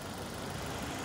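A 2016 Suzuki Ertiga GX with a 1400 cc engine idles steadily at close range, giving a smooth, even hum with no talk over it.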